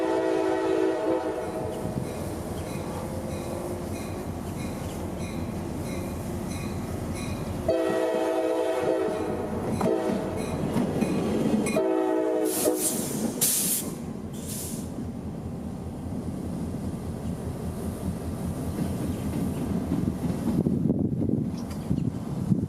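A CSX EMD GP38-2 diesel locomotive from 1980 rolls along a rail line in Tampa, with engine rumble, a loud horn blast partway through, hissing air and rail noise, and no voices.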